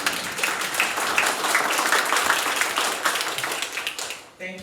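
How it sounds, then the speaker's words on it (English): Audience clapping for the mayor at a township property tax workshop, a sustained wash of claps from a modest crowd that tapers off in the final moments. "let's give the mayor a round of applause"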